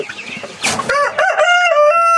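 A Rhode Island Red rooster crows loudly and close by, one rising then drawn-out call following a few soft clucks.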